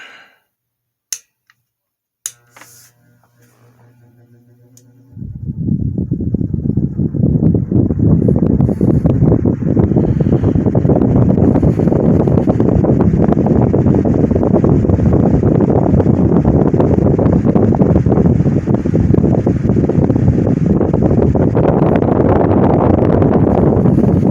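A vintage oscillating Westinghouse table fan switches on with a few clicks, then spins up into a loud, steady whooshing roar of rushing air that holds constant to the end, with no voices.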